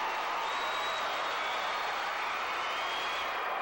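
A gymnastics arena crowd at the 1992 USA vs. Japan women's competition applauds and cheers a performance, a dense, steady wash of clapping at moderate distance.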